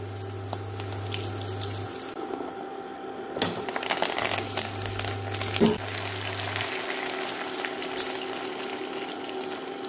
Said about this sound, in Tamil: இப்போ எண்ணெய் காய ஆரம்பிச்சுட்டு நம்ம கருவேப்பிலையும் கடுகு உளுந்தம்பருப்பும் போட்டுடலாம்.